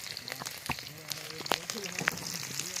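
Onions frying in a pan over an outdoor cooking fire, with a soft, close sizzle and crackle, scattered pops, and faint voices in the background.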